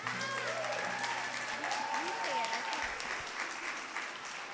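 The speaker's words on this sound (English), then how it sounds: "would you give one last time a big round of applause for our third grade?" A congregation at Temple Aliyah gives a round of applause for the third grade, a soft, fairly distant spread of clapping mixed with voices and crowd murmur.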